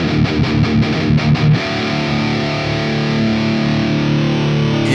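Distorted electric guitar heard through a V30 cabinet impulse response: a run of choppy palm-muted chugs, then a sustained ringing chord that holds to the end, loud and upfront.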